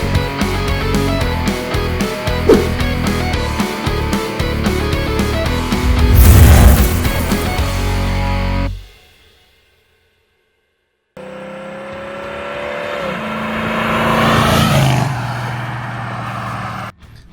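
A 1966 Ford Mustang coupe with a 302 engine and C4 transmission, running loud and close with revving that rises and falls, then a gap of near silence before it fires back up and revs again.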